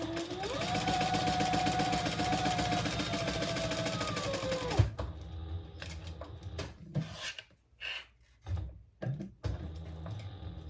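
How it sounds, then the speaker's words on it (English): A sewing machine back stitches around the boxed corner of a purple crossbody bag, its steady rapid whir running for about five seconds. Quieter handling rustles and brief bumps follow. "And I'm just going to back stitch this"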